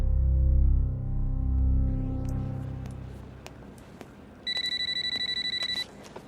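A telephone rings in a Hindi film scene, a rapid electronic trill starting midway and lasting over a second, loud and close, following a fading low musical drone and scattered clicks, with no talking.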